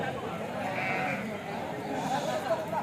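Sheep bleat amid a noisy outdoor crowd at the weekly sheep and goat market in Kadiri, with people talking nearby throughout.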